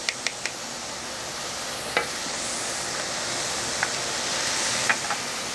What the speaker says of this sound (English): we're going to let this saute for about 3 to 4 minutes until the vegetables become a little bit soft